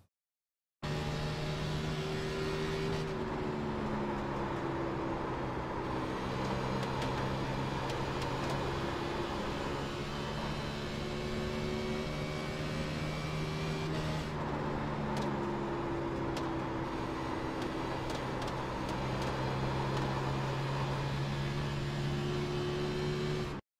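A race car engine in the iRacing video game drones steadily through a lap at Dover, a constant buzzing tone that shifts pitch slightly in two smooth swells, heard alone without talk.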